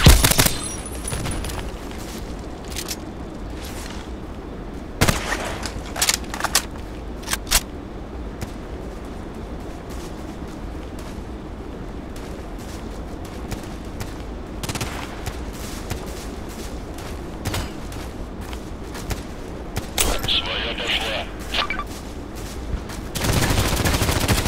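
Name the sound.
AS VAL rifle gunfire in video game Contract Wars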